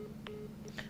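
A telephone beeps during a live broadcast, with a few short, faint electronic tones over a low steady background hum.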